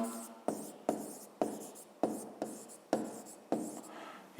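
A pen scratches across paper in short strokes with firm taps, about eight distinct writing bursts in a quiet room as numbers and a math answer are written down.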